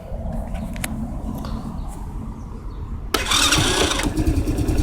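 A Riders Super Cub 110cc motorcycle on choke runs through a few seconds of low cranking. Then the engine catches and settles into a louder, rough, uneven idle, close by.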